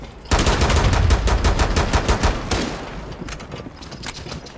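Automatic gunfire in Rainbow Six Siege erupts as a loud, rapid burst of close shots lasting a few seconds, then tails off into a softer stream of rounds and reverberation.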